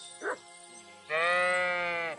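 Sheep bleating in the Kingdom Come Deliverance 2 video game: a brief short bleat, then a long, loud, sustained wavering bleat close by, with no voices over it.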